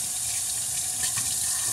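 Tap water runs steadily into a sink for a quick rinse, a continuous close splashing hiss with no talk.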